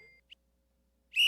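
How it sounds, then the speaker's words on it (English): A bright, shrill whistle sound effect bursts in near the end, loud and close, after a faint short chirp and near silence. "I only have a whistle and a cash machine."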